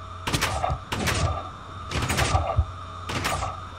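Four dull door-like thunks glitch through a Minecraft server game, spaced roughly a second apart, each a short broadband knock over a low steady hum.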